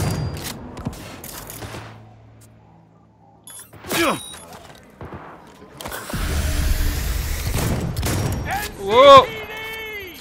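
Gunfire in the video game Cyberpunk 2077, scattered shots and bursts over roughly ten seconds with a louder stretch near the end, mixed with game sounds and a short exclamation from a player.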